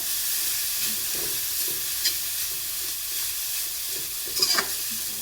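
Coconut mixture stirred and fried in a pan, a steady close hiss of sizzling oil with soft scraping strokes of a spoon and a couple of sharper clinks, no voices.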